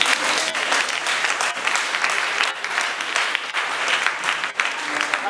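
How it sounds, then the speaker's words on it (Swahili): A church congregation claps loudly and continuously for Jesus, dense sustained applause filling the hall with no voices on top. "Mpe Yesu makofi"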